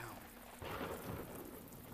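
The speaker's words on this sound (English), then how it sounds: "Especially when it is raining." Steady rain falls in the video game Deadly Premonition, a broadband hiss that swells after a moment into a fuller downpour with a low rumble, heard alone.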